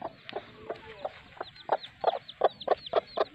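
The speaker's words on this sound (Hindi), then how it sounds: "ये छोटे छोटे चूजे" A village hen with three newly hatched chicks clucks in a steady series of short, soft calls nearby, while the chicks' thin, high peeps chirp repeatedly above them.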